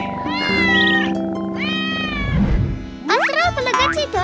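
Cats meow loudly and close by, several drawn-out calls in quick succession, with one rising, strained cry near the end.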